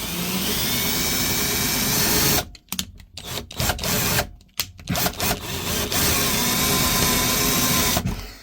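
A power drill boring holes into wood while a cheap workbench is being built: a loud, steady motor whine that stops and restarts in several short bursts midway, then runs on again, close and with no talk.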